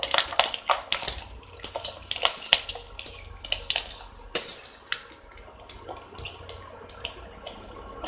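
Sago vadam (javvarisi vadagam) dropped into hot oil for deep frying gives a bright, crackling sizzle with scattered pops and bursts that rise and fall throughout, close and moderately loud with no talking.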